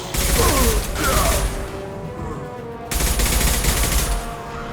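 Rapid, loud gunfire from the video game Mass Effect 2 rattles in dense sustained bursts, briefly easing before another heavy volley.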